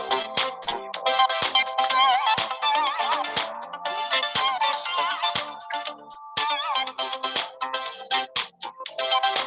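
A melodic phone ringtone plays on and on with bright, rhythmic chiming notes and punchy beats, fairly close and loud, with no talking over it.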